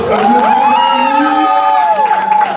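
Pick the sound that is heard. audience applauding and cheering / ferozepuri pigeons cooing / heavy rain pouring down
audience applauding and cheering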